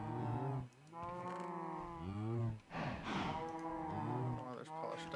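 Minecraft cows moo repeatedly in a row, several long, quiet, pitch-bending calls spaced by brief gaps, with a breathier bleat in the middle.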